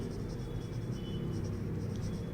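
Handwriting during a lesson on writing out the steps for making a cake, a steady close scratching of a pen or marker across a surface, continuous and fairly soft over a low background rumble.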